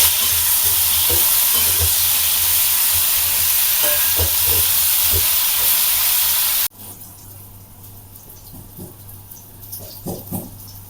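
Pointed gourd pieces frying in oil in a pan, a loud, bright, steady sizzle with bursts of popping, then a sudden cut to a much quieter sizzle with soft stirring knocks.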